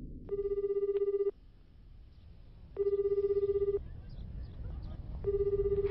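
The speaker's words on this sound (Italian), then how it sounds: "Va, già tre squilli non risponde" A telephone ringing in the Death Note anime, with three loud electronic ring bursts about a second long, separated by pauses and set over low background noise with faint voices.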